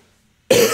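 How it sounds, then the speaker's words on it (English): A single loud, abrupt, lingering cough bursts out after a stretch of near silence during Super Mario Odyssey gameplay, close to the listener. "Still with this lingering cough."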